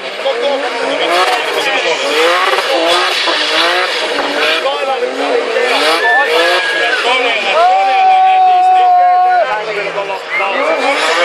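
A BMW engine revs hard at a Bimmerparty car meet in Kalajoki, loud and continuous with rising and falling pitch and a long sustained high-rev hold near the end, under steady talk from a man nearby.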